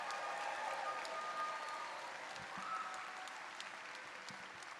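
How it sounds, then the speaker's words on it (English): A large audience applauds at a San Jose State University engineering college ceremony, a broad, even roar of clapping that carries on steadily and fades slightly toward the end. "Let's hear one more round of applause for everybody."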